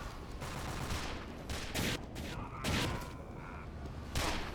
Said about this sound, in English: Wait, they have a sentry in our base?